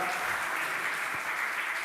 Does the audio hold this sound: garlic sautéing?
no